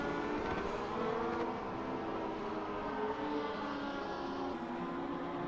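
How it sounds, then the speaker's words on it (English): Engines of 1984 Formula 1 cars in a racing video game, set at the Dijon-Prenois circuit, roar in a steady continuous drone with layered revving and no clear gaps, the sound occasionally straining against the rev limiter. "if you listen to some of the cars as they go past the camera, you can sometimes hear perhaps banging off the limiter, pushing into the red line a bit"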